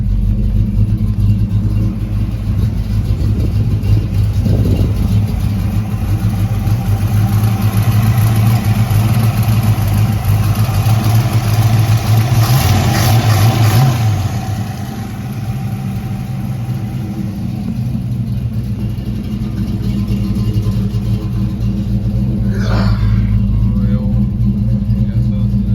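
A Foxbody Ford Mustang V8, still on EFI before a carburetor swap, idles loudly close by with a steady low rumble, its pitch briefly rising and settling partway through.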